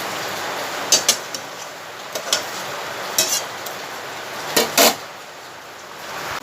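Leftover cooked rice frying in a pan gives a steady soft sizzling hiss, broken by a few sharp clicks and scrapes of a spatula against the pan.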